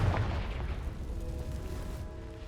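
A Confringo fire-blast spell in a Harry Potter video game goes off as one loud, deep boom, then a rumbling roar that slowly fades over a couple of seconds.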